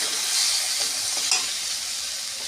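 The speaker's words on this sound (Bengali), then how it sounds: "ভাজা ভাজা হয়ে এসেছে, এবার সিদ্ধগুলো দিয়ে দিলাম।" Pumpkin and taro mash being stirred in a hot pan: a steady close sizzle with soft scraping strokes, alone, no voices.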